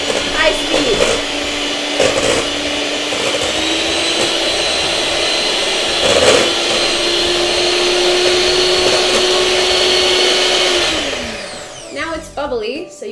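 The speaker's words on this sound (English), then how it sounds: "And then you mix it for however long it takes to mix egg whites. At high speed!" An electric mixer beats egg whites at high speed for a chiffon cake, giving a loud, steady motor whir that rises slightly in pitch and then winds down near the end. Brief voices are heard around it.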